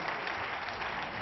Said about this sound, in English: The audience stand up, a standing ovation from this packed Crucible crowd